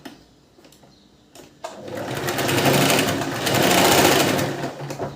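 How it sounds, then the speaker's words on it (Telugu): A sewing machine stitches the lining of a princess-cut blouse, starting after a quiet moment and then running steadily and loudly for several seconds with a continuous whirring drone. "దీని మీద నుంచి కుట్టుకోవాలి"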